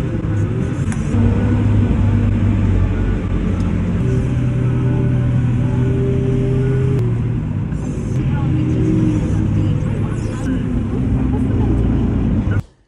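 Loud, steady diesel rumble of a lorry's engine idling and running at a heap of barley seed on a farm, with tonal engine hum throughout and voices talking over it, cutting off abruptly at the end.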